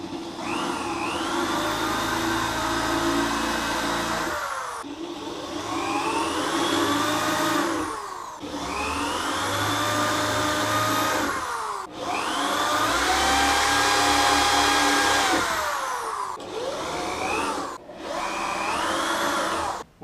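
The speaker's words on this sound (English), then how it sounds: "this Forstner bit did a lot better of a job cutting out the area to be plugged" A Forstner bit bores plug recesses for dowel plugs in a wooden bathroom shelf, giving loud, steady whining drill runs in several bursts separated by brief pauses, with no talking.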